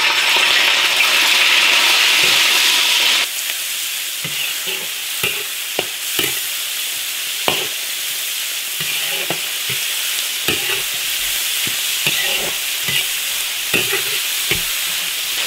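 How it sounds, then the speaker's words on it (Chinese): Shrimp stir-frying in an iron wok: a loud, hissing sizzle at first that drops after a few seconds to a quieter fry, broken by irregular clacks and scrapes of stirring. No voices. "虾肉爆炒"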